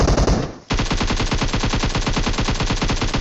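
An automatic weapon fires in PUBG Mobile, a short loud burst, a brief gap, then a long rapid continuous stream of evenly spaced shots up close with no talking.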